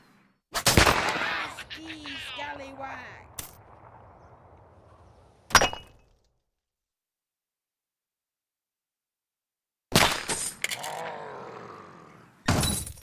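Bursts of gunfire and crashing impacts erupt in the pirate game Pixel Piracy, loud sharp blasts with shattering debris, then a long stretch of silence before more sharp cracks return.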